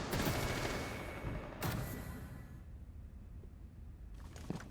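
Gunfire in the mobile shooter game Rainbow Six Mobile: a sharp burst of shots at the start, another single crack, then a quick pair of shots near the end, each trailing off into a quiet room tone.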